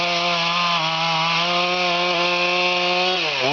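A chainsaw steadily cuts into a tree while a crew does precision felling, the engine loud, close and continuous throughout, with its pitch dropping near the end as the bar works through the wood.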